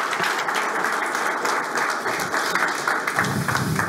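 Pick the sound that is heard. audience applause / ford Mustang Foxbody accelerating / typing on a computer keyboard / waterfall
audience applause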